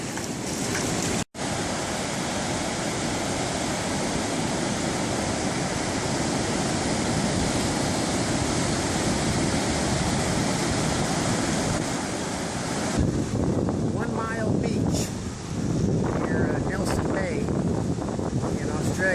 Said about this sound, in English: It's a nice beach.